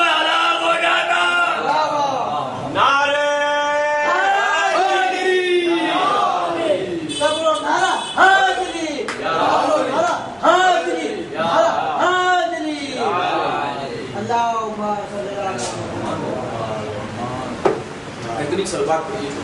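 A crowd at a religious gathering chants religious slogans in loud unison, with repeated swelling calls carrying through the whole stretch and voices overlapping densely.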